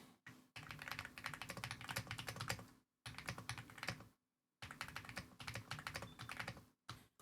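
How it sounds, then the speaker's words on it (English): Typing on a computer keyboard in quick, steady bursts of clicking, separated by a few short pauses, close and fairly quiet with no voices. "So you're hearing me typing this to him right now."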